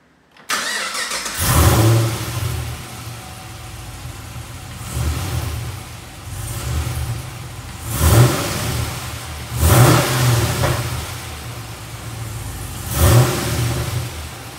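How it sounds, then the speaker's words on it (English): A supercharged Chevrolet SS engine with a ZL1 converter cranks and catches, then idles with several sharp revs rising and falling at intervals, close and fairly loud. "Let's give her a quick start up."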